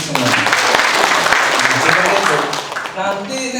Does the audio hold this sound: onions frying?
no